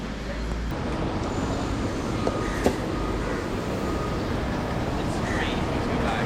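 Train ride in Singapore, a steady rolling rumble of a rail carriage in motion with a couple of faint clicks, heard from inside alongside low background voices.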